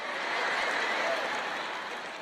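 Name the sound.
audience applause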